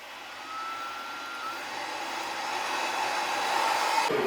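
Steady whooshing airflow from a LaserPecker LP5 laser engraver's exhaust fan, set up by a garage door, holds a constant broadband hiss that builds slightly louder, with a faint whine drifting through it.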